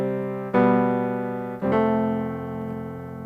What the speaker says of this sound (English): Most keyboards automatically select a piano sound when you turn them on.